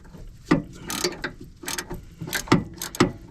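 Quick clicking bursts from a ratcheting wrench loosening a sway bar end link nut on a 2007 Chrysler Pacifica's front suspension, close and sharp with short irregular runs of ratchet ticks.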